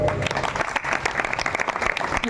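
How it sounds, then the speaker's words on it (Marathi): Audience clapping at a kirtan during a village saptah gathering in Mendka, a steady burst of dense applause from a crowd filling the whole moment. "टाळी एकदा स्वतःसाठी सुंदर वाजवा"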